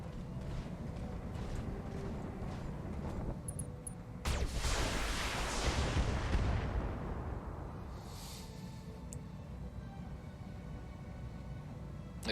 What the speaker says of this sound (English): I'm going to call an airstrike in on it.